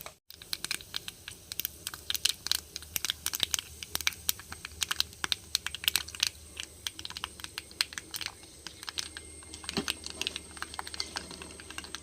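Mustard seeds splutter in hot coconut oil in a pan while crab thoran is cooked, a dense crackle of rapid irregular pops and sizzles that stays steady and fairly quiet, with no voices.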